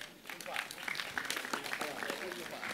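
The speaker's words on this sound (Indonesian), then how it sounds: "Sekali lagi tepuk tangan untuk Mbak" An audience at a village development gathering claps for a speaker, a modest, fairly quiet burst of applause that continues steadily with some voices underneath.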